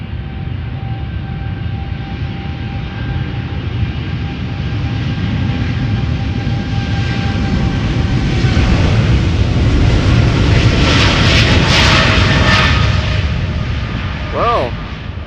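Boeing 777 jet engines roar loudly and steadily on takeoff from runway 36L at Amsterdam Schiphol, a rising whine building as it accelerates; a deep rumble dominates throughout, growing more intense toward the end.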